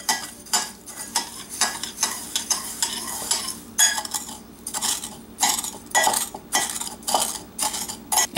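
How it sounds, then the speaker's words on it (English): A spoon stirs sugar into a mixture in a bowl, giving repeated scraping and clinking strokes in a steady rhythm, close and fairly loud, with no talking. "Stir."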